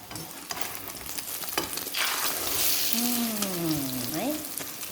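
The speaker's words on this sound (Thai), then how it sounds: "เราทอดไข่เจียว" Thai omelette (khai jiao) frying in hot oil, a steady close sizzle with scraping stirs, then a bright rising tone of melody that slides and bends over the crackle near the end.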